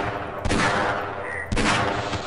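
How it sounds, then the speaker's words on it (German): Two loud revolver shots in the video game Half-Life: Blue Shift, about a second apart, each a sharp broadband crack with a lingering tail over a steady game background. "Ja, mein Revolver."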